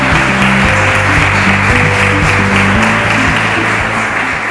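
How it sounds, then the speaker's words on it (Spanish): Audience applause fills a town hall awards ceremony in Grazalema honouring local students, a steady dense wash of clapping running throughout with music-like tones underneath. "Un aplauso para ella."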